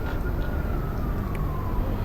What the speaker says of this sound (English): Sirens blared in the background.